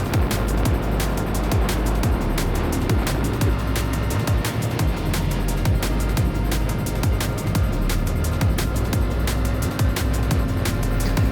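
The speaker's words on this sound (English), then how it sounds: "I'm on the MT-07 and we're riding Northern Thailand" A Yamaha MT-07 motorcycle ridden on the Mae Hong Son Loop in Northern Thailand gives a steady, loud roar of engine and wind that holds without a break, with no talk.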